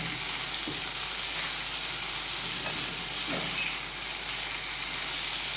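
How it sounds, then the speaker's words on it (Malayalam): Dry prawns with a little salt fry in a pan, giving a continuous hiss and sizzle with a few soft scraping stirs, and no voices. "ഇത് നന്നായിട്ട് ഡ്രൈ ആവുന്നത് വരെ ഇങ്ങനെ ഇളക്കി കൊടുക്കണം. നമ്മുടെ ചെമ്മീൻ ഏകദേശം ഫ്രൈ ആയിട്ടുണ്ട്."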